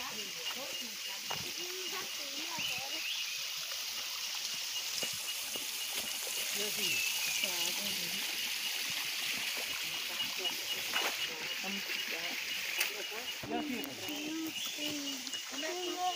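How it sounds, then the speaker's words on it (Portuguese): A creek flows along a forest trail at Riacho do Meio in Barbalha, Ceará: a steady, close trickle and wash of water runs throughout, with people talking over it. "Passagezinha do Riacho do Meio."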